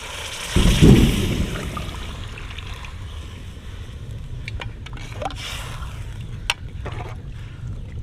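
Water is poured into a pot of partly cooked vegetables for paneer pulao: a loud gushing splash at the start settles into a steady, quieter pour with occasional small clinks, and no talking.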